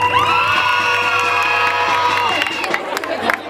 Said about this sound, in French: Applaudissez pour les 3e années.